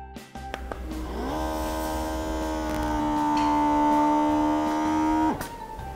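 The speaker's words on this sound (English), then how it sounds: "Then we bring the vacuum handheld device and you press the button." A Zwilling Fresh & Save handheld vacuum sealer pumps air out of a food container with a steady, buzzing motor whine. Its pitch shifts slightly midway as the suction builds, then the motor cuts off abruptly near the end.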